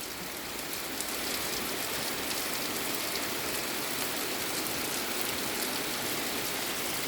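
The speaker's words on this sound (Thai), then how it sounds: "ฝนตกแบบแรงเลย" Heavy rain pours steadily at a house at the edge of a forest in rural Thailand, a dense, even hiss that never breaks, with no voices present.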